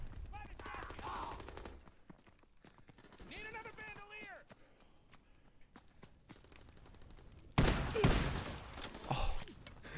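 Sawed-off shotgun blasts in Call of Duty WW2 gameplay. A loud, sharp burst of gunfire comes late, followed by a second shot. Players talk over quieter game sounds before it.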